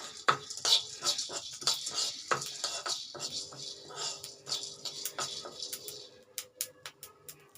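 Whole spices for a soya chunks pepper fry dry-roast in a pan, stirred with light scraping and a steady patter of small rattling clicks and taps, close and fairly quiet.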